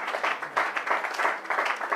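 A church congregation applauding, steady rhythmic clapping at a moderate distance, continuous and fairly even throughout.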